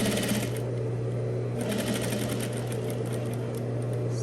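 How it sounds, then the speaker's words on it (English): A sewing machine stitches a welt pocket rectangle with French seams, running steadily with a close, even mechanical hum and rapid needle rhythm for the whole stretch, with only a brief easing in tempo. "And with the needle down in the fabric, pivot, sew to the second corner"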